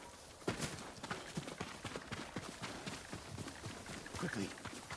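A horse gallops in the game Ghost of Tsushima, a quick, steady clip-clop of hooves at close range.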